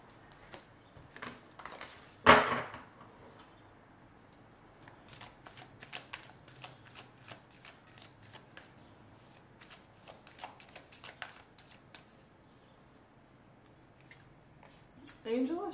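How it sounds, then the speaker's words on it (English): Oracle cards being shuffled and pulled, a sharp riffle burst near the start followed by a long stretch of soft, irregular card flicks and slides, with a second riffle at the end. "Let's pull some oracle cards."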